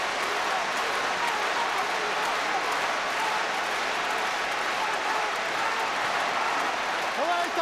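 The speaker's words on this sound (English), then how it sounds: "The crowd getting behind them." Rugby World Cup stadium crowd at Australia versus Uruguay roaring steadily in support of Uruguay, a dense, continuous wall of cheering and applause with a brief swell near the end.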